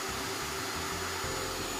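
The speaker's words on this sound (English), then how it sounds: "if you have a small vacuum like I do, I suggest you to use it to suck the dust from the inside around the motherboard" A small vacuum cleaner sucks dust from around a computer motherboard inside a PC case, giving a steady, close whooshing drone with a low motor rumble that holds throughout without pause.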